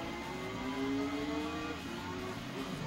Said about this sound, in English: at least it sounds kind of like Lotus Elise GT1